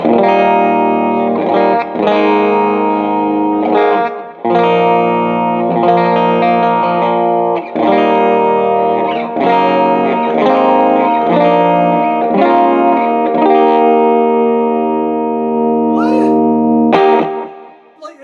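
An electric guitar on its bridge pickup, played through an overdrive pedal, rings out with gritty chords and single notes, played steadily and up close with no voices.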